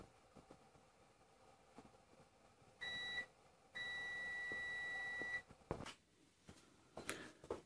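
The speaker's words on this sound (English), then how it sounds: "we'll get an audible beep" A digital multimeter in continuity mode, probes touched together to test a BMW E46 low coolant level sensor connection, gives two steady high electronic tones: a short beep, then a longer one lasting about a second and a half, over quiet room noise.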